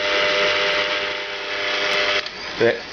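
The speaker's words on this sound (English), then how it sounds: "So sometimes you have to turn off the mixer for a minute, scrape down the sides, start it up again." A stand mixer kneading naan dough whirs with a steady motor hum that cuts off abruptly partway through, followed by a brief knock.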